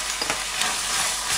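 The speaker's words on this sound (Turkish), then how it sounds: "Kıymamızı katıp kavuruyoruz." Ground beef mince frying in a pan with chopped garlic and onion for Ali Nazik kebab, a steady close sizzle with faint stirring scrapes throughout, no talking.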